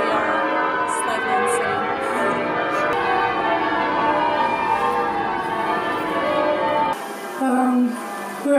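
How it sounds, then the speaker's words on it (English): Church bells peal continuously and loudly near a church, a dense layered ringing that fills the whole stretch before dropping away into quieter bell tones near the end. "The bells are still going."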